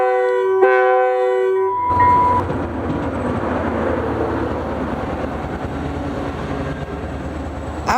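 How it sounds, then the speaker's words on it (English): A southbound FrontRunner commuter train departs: a brief horn blast sounds up front, then a steady, loud rumble and clatter of rolling railcars continues close by. "the southbound frontrunner then departed"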